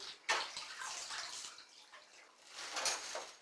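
Chicken rinsed inside and out under running water, a close, splashing flow that swells and eases in uneven bursts with a louder gush near the end, no voices.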